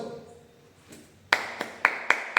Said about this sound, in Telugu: అయితే నువ్వు చప్పట్లు కొట్టు